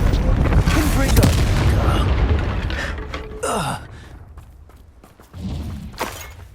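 A Confringo spell blast from the game Hogwarts Legacy, a loud booming burst with crackling debris in the middle of busy game action, followed by a second impact near the end.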